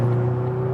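A McLaren GT cruising on the German Autobahn gives a steady, loud engine drone with a constant tonal hum, layered with a broad rush of wind noise, unbroken and without talk.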